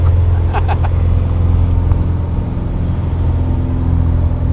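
An agricultural tractor aircraft lifts off an airport runway trailing a little smoke, its engine a loud, steady drone that holds through the whole stretch with no break.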